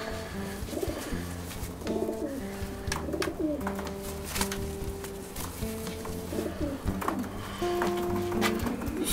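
A young grizzle pigeon, thought to be a cock, coos in repeated soft rolling phrases up close, with faint clatter from the loft behind.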